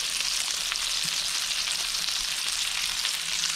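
Flathead fillets fry in a hot pan with a steady, even sizzle and faint crackling, close and continuous with no voices.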